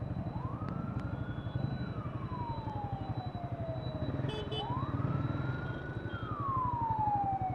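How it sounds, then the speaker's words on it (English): An ambulance siren wails in slow rising and falling sweeps, fairly distant, over the constant rumble of a vehicle engine. "The ambulance."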